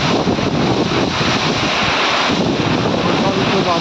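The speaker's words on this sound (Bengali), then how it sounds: "বাতাস হচ্ছে, বাতাস বৃষ্টি।" Strong wind and rain outdoors during a storm, a loud, dense roar of gusting wind buffeting the microphone, steady and unbroken for several seconds.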